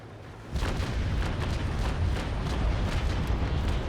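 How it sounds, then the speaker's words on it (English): Chain shot fired from a sailing warship's cannons in the naval combat game Naval Action, a dense, rumbling roar of booming shots that rolls on continuously for several seconds after a brief quiet start. "getting ready for the chain shot, switching the sector focus to 250 meters, making sure that we're slow enough, and fire."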